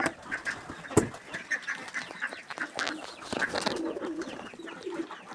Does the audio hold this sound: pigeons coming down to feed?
yes